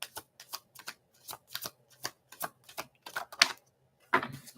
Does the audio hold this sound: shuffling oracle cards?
yes